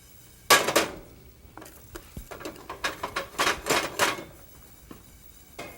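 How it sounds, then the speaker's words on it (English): Peppercorns and poppy seeds dry roasting in a heavy pan, with a run of sharp, irregular dry clicks and rattles as the seeds are shaken and stirred, close and fairly quiet with no talk. "we're going to dry roast them for about 5 or 10 minutes until they're very aromatic and golden brown"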